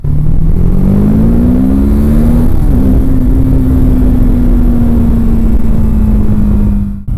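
Single-cylinder engine of a TVS Apache RTR 310 motorcycle held at a steady, loud drone close by, pitch rising slightly then easing back, alone with no talk throughout.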